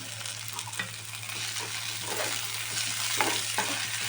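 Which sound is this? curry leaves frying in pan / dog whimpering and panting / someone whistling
curry leaves frying in pan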